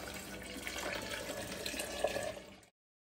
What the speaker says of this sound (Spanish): así que vamos a echarle agua y ya venimos.